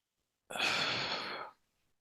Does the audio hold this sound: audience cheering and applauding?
no